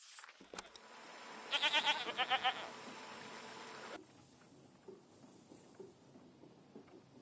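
Goats bleating in the video game Season: A Letter to the Future, a quick series of about six nasal, wavering bleats close by, followed by quieter ambient rustle.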